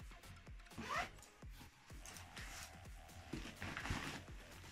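Zipper on a tennis racket bag holding three rackets being pulled open, a run of quick ratcheting zip strokes up close, with small rustles and handling knocks of the bag in between.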